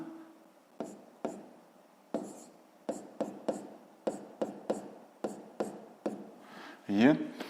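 Pen or pencil strokes on paper while working a fifth-grade maths exercise: a steady series of short scratchy marks, roughly a dozen separate strokes in a loose rhythm, close and quiet, with a brief louder scribble near the end.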